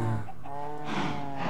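Cows mooing in the Minecraft video game: a drawn-out, low bovine call that rises and wavers across the short moment, steady and moderately loud with no speech.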